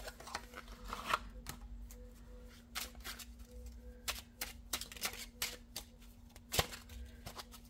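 Playing cards are drawn and flicked down for a poker hand, giving a series of sharp, dry snaps and taps at irregular intervals, close and fairly quiet.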